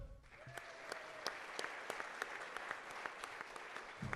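Audience applause fills a press conference held for the University of Northern Colorado's new head football coach, a steady crowd of clapping with sharp individual claps standing out, sustained and fairly near throughout.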